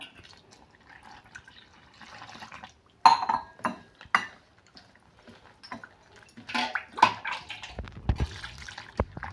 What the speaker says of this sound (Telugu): ఇప్పుడు వాటర్ వేసుకొని కలుపుకోవాలి పిండి ఎలా కలుపుకుంటామో అలాగా